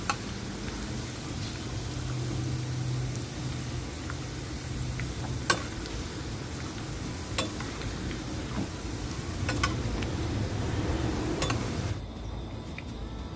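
Garlic fries in hot oil until crisp and golden, a steady close sizzle and crackle with scattered sharp pops that stops abruptly near the end.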